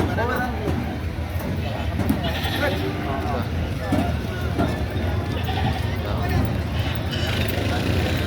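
Goats bleating amid a noisy crowd at a livestock auction market, with overlapping voices and chatter throughout; the bleats are partly buried in the steady babble.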